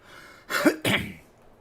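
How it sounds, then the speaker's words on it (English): A single person clears their throat with a short two-part rasping cough, close and fairly loud, alone in an otherwise quiet room. "as soon as I started the stream, I felt like coughing"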